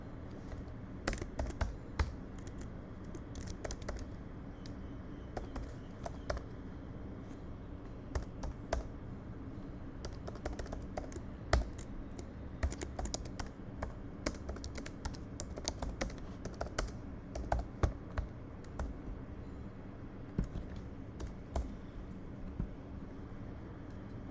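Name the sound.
typing on a computer keyboard while writing code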